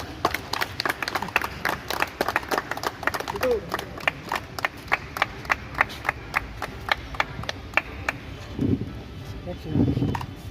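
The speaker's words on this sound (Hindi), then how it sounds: "एक बार जोरदार तालियां।" Audience applause for an honoree at a Marwari Sammelan Guwahati branch event, a steady run of loud, rhythmic claps for several seconds that fades out, followed by voices.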